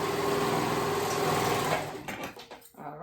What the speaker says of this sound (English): And we're gonna sew those raw edges.